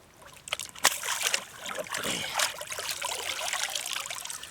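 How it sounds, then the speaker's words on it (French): A large carp released back into a private pond, with close water splashing, trickling and dribbling sounds that rise and fall over a few seconds, plus one brief sharp knock near the start. "on relâche la Big Mama. Regarde, remise à l'eau."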